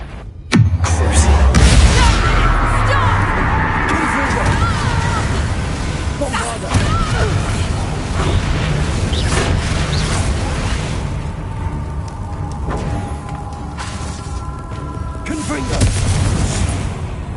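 Fiery Confringo spell blasts in Hogwarts Legacy, a loud booming explosion near the start followed by rumbling crashes and whooshing debris, with a character's voice talking over parts of it.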